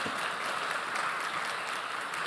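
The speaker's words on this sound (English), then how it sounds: "You can clap." A crowd at a memorial service claps continuously, a dense patter of many hands applauding at an even pace, moderately loud with no voices.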